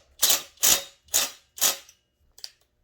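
Bolts being tightened on the muffler of a Stihl MS 461 chainsaw, four crisp evenly spaced ratcheting bursts followed by a fainter fifth, close up with no talk.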